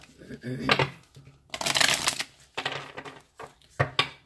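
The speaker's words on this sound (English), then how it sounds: "Shuffle a couple more times," Cards being shuffled in several quick riffling bursts with short pauses between, close up, with faint background sound.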